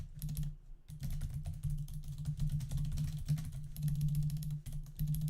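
Rapid typing on a computer keyboard, close and continuous with dense irregular clicks and a brief pause near the start.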